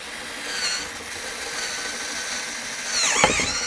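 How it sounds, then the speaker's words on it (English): A power drill bores a pilot hole, its steady whirring motor running alone and close, with a brief louder grinding burst near the end as the bit bites. "I should drill a pilot hole"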